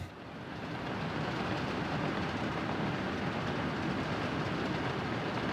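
A train in the game Workers & Resources: Soviet Republic rolls along as a steady, loud rumbling drone that swells within the first second and then holds evenly, with no voices over it.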